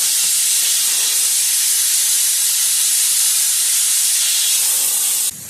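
Compressed air from a compressor turned up to 150 psi hisses loudly and steadily into a tire on a manual tire machine to seat the bead, a continuous close blast that cuts off abruptly at the end.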